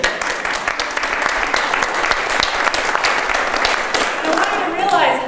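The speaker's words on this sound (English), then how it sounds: "give yourselves a big round of applause just for being here today" Seminar audience at an unemployment support event breaking into a big round of applause, dense rapid clapping that stays loud and full throughout, with some voices mixed in near the end.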